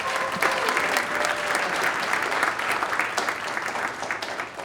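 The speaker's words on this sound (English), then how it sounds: "So if you guys can give a round of applause to Royalty Headwear." An audience at a startup pitch event applauds a product presenter with sustained, dense clapping that fills the room, steady and moderately loud throughout, with no one speaking.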